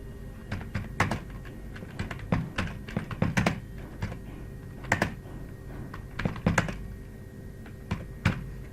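Close, irregular clicks and clacks of fingers typing text on a computer keyboard, arriving in quick bursts with short pauses, with no voice over them.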